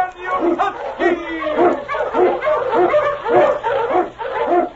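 Barking from an Eskimo sled dog named King, a swift, strong lead dog, in a snowy Yukon setting, with repeated rhythmic barks across the whole stretch, loud and close, mixed with voice-like sounds.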